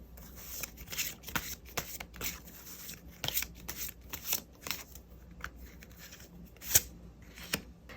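Tarot cards are shuffled and handled to draw a single card, giving soft papery flicks and slides in uneven bursts with one sharper snap near the end, close and quiet.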